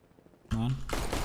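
Gunfire in Counter-Strike: Global Offensive, a sudden loud, close burst of rapid shots that cuts in midway and keeps going in a dense volley, with a voice talking over it.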